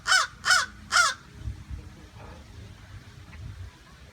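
A crow at an alligator farm gives three loud, evenly spaced caws close by, followed by quieter outdoor background noise.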